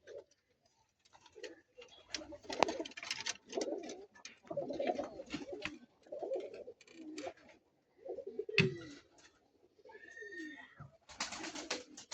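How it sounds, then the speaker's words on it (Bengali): A flock of around 150 pigeons kept in a loft coos in repeated soft, low phrases, several birds overlapping, with occasional clicks and wing or movement noises and quiet gaps between bursts. "অনেক কবুতর, ১৫০ কবুতর আছে।"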